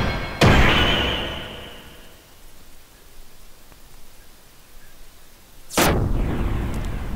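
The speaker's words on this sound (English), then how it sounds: "Holy crap, she fired her laser." Two heavy blasts from a laser weapon in the video game Xenogears, each a loud, sudden boom followed by a long roaring rumble that fades out, alone with no speech.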